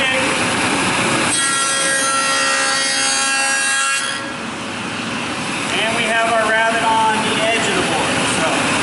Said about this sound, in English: Dado Head Cutter. Makes our dados, rabbits, and grooves.